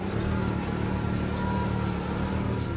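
A cheap Ford Fusion being used as a jumper car idles with a steady low engine rumble, continuous and fairly close, with no talk over it.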